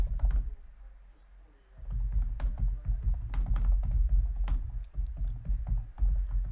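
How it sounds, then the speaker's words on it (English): Rapid, irregular typing on a computer keyboard, close and fairly loud, with a brief lull early on before the clicking picks up again; no one speaks. "Sorry, just typing away"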